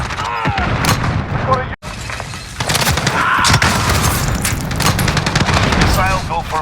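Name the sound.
missile launch and airstrike explosions in a video game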